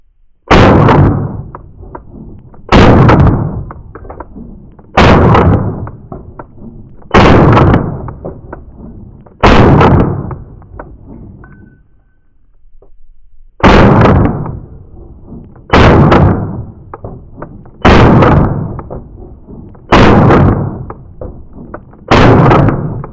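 Kimber 2K11 Pro Comp pistol firing ten sharp, loud shots in a steady cadence about two seconds apart, with a short pause after the fifth shot, no talking.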